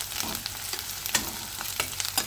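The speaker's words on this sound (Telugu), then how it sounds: "సో అల్లం వెల్లుల్లి పేస్ట్ బాగా పచ్చివాసన పోయే వరకు వేయించాలి." Ginger garlic paste frying in a pan for palak paneer curry, a steady close sizzle broken by the scrape of stirring.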